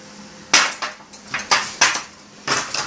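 Garlic being mashed with salt and oil in a bowl for mofongo, a series of distinct knocking, clinking strikes in an irregular rhythm, close and moderately loud, with no voices.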